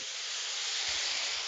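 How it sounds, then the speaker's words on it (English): Water poured into a hot pan of broccoli sets off a loud, steady steaming hiss that holds for the whole moment with no pause, a few low pops and sizzles rumbling underneath. "I'm just gonna add a little bit of water to this broccoli"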